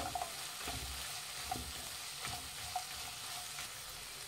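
A spoon stirs softened tomatoes and cashews in a pan for paneer butter masala. The faint sizzle is broken by regular light scrapes and clicks against the pan, and no one speaks.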